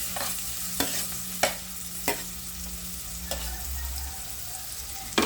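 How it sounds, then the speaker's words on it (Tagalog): Kamias (bilimbi) with shrimp paste cooking in a pan, a steady close sizzle with a few sharp stirring scrapes and clacks at intervals, no voices. "lutuin muna natin itong kamyas"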